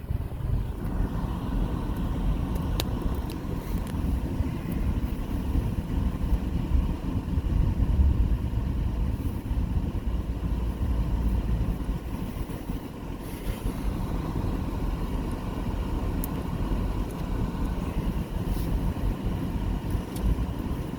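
A car drives out of Acadia in Maine, its engine and road rumble a steady, even drone from inside the cabin for the whole stretch, with no voices.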